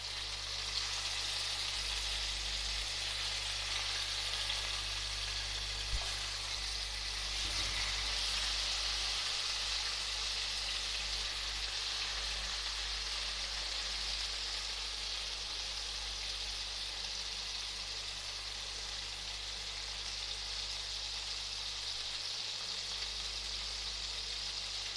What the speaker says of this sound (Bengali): এবারে আমি এটা চিকেনটি হালকা করে ভেজে নেব।